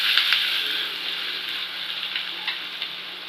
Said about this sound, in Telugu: ముందుగా తీసుకున్న 1 స్పూన్ అల్లం వెల్లుల్లి పేస్ట్ని అందులో వేసేసి ఒకసారి అలా కలిగి పెట్టాలి